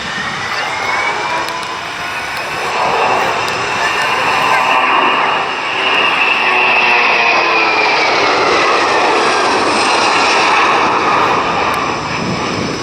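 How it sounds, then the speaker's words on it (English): An RNZAF aircraft makes a high-speed pass along the runway at an air show, its engine roar swelling loud and sustained with a sweeping pitch shift as it goes by, while an announcer talks over it. "lining up along the runway for a high-speed pass, 600 kilometers an hour"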